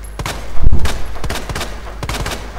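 Gunfire from a handgun in the survival horror game Resident Evil 2 Remake, with several sharp shots and a heavier thudding burst near the middle, over a steady game-ambience bed.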